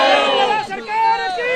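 Devotees crowd the Ram temple in Ayodhya, with many voices raised together in loud, close shouts and chants that swell, dip briefly, and then rise again.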